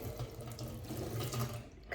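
A tap supplied by a private well pump, its power cut off during a storm, gives out a steady, close trickle of water running into a sink, heard alone without talk.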